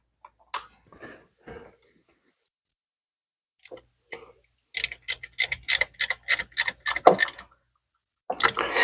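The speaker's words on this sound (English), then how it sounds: "we can switch to our ratchet" A ratchet wrench clicks in a quick, even run of about a dozen sharp ticks while a bolt is snugged on a Ford Explorer starter, with a few scattered tool clinks before it in near silence.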